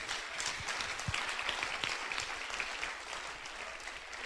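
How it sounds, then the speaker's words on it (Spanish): A church congregation applauds during a Spanish-language sermon, with steady, moderately distant clapping that holds at an even level throughout, plus a few louder close claps early on. "Denle un aplauso si quiere hacerlo entonces"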